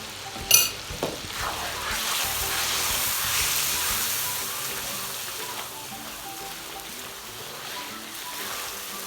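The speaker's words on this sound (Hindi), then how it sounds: "इसको 4 से 5 मिनट हो गए भूनते हुए" Chicken karahi masala fries steadily in a pan with turmeric and chili, a constant close sizzle and hiss with a few utensil scrapes near the start.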